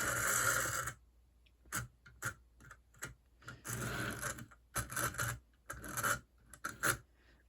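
An HO scale Pennsylvania Railroad F7B model locomotive stutters in short, irregular bursts of raspy motor buzz separated by near-silence, faint and close.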